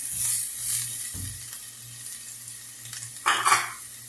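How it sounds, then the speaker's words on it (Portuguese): Onion and seasoning fry in a pan for a beef and carrot stew, a faint sizzle under soft stirring and scraping, with a brief clatter of a utensil against the pan near the end. "Aí já fritou bem aqui a cebolinha, o alinho."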